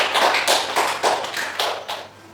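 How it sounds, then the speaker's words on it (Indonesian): A classroom group claps for the first team after its presentation, a short burst of close, brisk applause lasting a couple of seconds and tapering off. "Tepuk tangan untuk kelompok"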